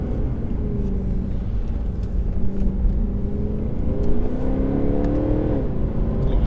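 A 2013 Mercedes C63 with its naturally aspirated engine pulls hard from second gear, a steady loud in-cabin rumble and rising engine whir climbing in pitch through the run, with faint road noise underneath.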